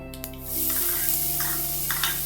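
Coarse ginger-chilli paste sautés in hot oil with the gas turned off, a loud close sizzle that rises suddenly and holds steady while the pan is stirred, with a faint tonal hum underneath.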